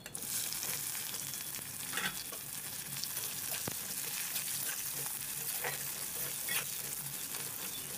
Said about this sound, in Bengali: পেঁয়াজটাকেও আমি একবার ভালো করে ভেজে নেবো।